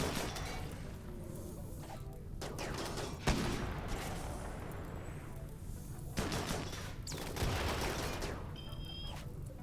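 Minigun fire in Rimworld, dense overlapping volleys of gunfire at low level, with a few sharper impacts scattered through the battle noise.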